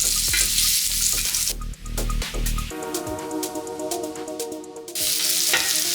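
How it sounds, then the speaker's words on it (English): Mushrooms sauteing in avocado oil on a Ninja Sizzle griddle for mushroom smash burgers. A loud, bright sizzle fills the start, drops back under tonal background sound in the middle, then returns strongly at the end. "Now we're going to put on our avocado oil and throw on our mushrooms. And we're going to mix these up here"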